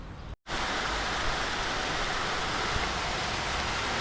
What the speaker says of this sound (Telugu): ఈరోజు అయితే వర్షం పడుతుంది చూడండి